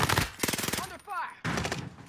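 Rapid bursts of gunfire in a video game ring out close and loud, broken by a short pause with a whooshing effect, while players talk over the shots.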